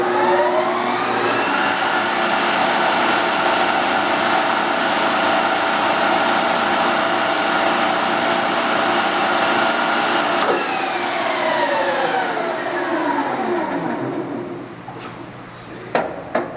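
A Standard Modern 15 x 50 lathe runs at 900 RPM with a loud, steady mechanical whine and hum close by, then winds down with falling pitch near the end, followed by a few light clicks.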